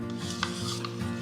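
Thick Artist Loft Naples yellow acrylic paint being stirred with Floetrol pouring medium, a steady close scraping and swishing that carries on without pause, with a faint tap partway through.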